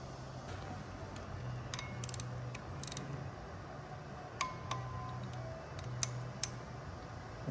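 A torque wrench on clutch bolts being tightened to 20 foot-pounds: quiet clusters of ratcheting clicks and metallic ticks, spaced irregularly over a low steady hum.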